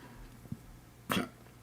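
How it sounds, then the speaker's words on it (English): A woman gives a single short, abrupt burp, fairly soft and close, in an otherwise quiet moment with no talking. "As I burp through that."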